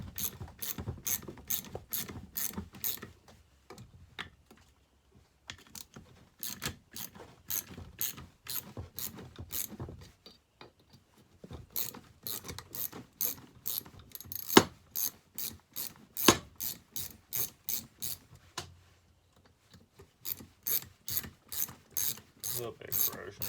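Ratcheting wrench clicks out in fast repeated bursts while bolts are broken loose on an old, slightly corroded Homelite XL12 chainsaw, with short pauses between runs, close and fairly loud, and no talking.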